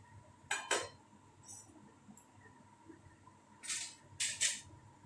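Metal lid clinks onto a cooking pot holding a cucumber and tomato curry, a few sharp clanks and rattles in short bursts against a quiet kitchen background.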